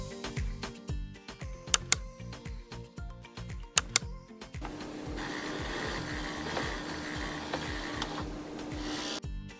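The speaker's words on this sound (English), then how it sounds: "the smooth whirling sound is made by the pump motor refilling the ice tray with water." A refrigerator ice maker's pump motor refills the ice tray with water, starting with sparse ticks and clicks before a smooth, steady whirring hum takes over, close up and alone.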